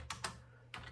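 A few quick keystrokes on a computer keyboard while a command is typed into an old computer running Ubuntu: three soft, close clicks spaced apart over a low steady hum, no voices.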